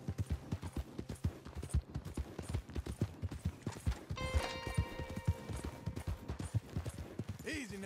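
Horses in the video game Red Dead Redemption 2 clop along in a steady, rapid hoofbeat rhythm, with a whinny near the middle and people talking over the hooves.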